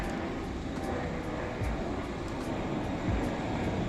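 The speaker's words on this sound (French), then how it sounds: "Toutes les 5 minutes, t'as un avion." Airplane passing overhead on Jeju Island, a steady broadband engine roar that holds at even loudness across the whole stretch, with no voices.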